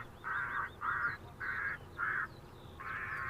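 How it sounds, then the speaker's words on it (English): Geese or similar birds squawking and honking near Edinburgh airport, five distinct bursts of harsh calls at moderate distance, with faint chirping birdsong between them over a low background rumble. "As you can probably hear, the bird song is probably as noticeable as the squawking."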